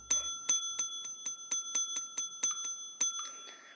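Bell in the Viva Project video game rung repeatedly, about a dozen bright metallic dings in a fast even rhythm, each ringing out briefly, clear and alone.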